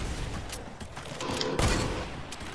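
Fortnite gunfire: a rapid, crackling burst of shots over steady in-game background noise, loud and close, with a sharper heavy blast just past the midpoint.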